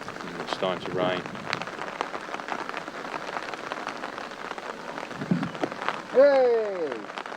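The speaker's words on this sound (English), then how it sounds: "It's starting to rain." Rain patters steadily onto a lake at a carp fishing spot, a dense hiss of drops throughout, with brief bursts of voices and a short squeaky sound near the end.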